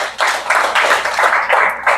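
An audience at a young people's music school gathering claps in sustained, dense applause that stays loud throughout, close and without talking.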